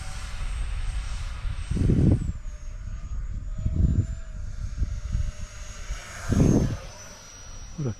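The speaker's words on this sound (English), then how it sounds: "What a cool little plane." A tiny MB-339 model plane flies overhead, a thin high engine whine that drifts in pitch as it passes, with wind bumps and a few low thumps near the microphone.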